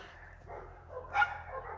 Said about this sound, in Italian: Scusate per i cani, purtroppo siamo all'aperto.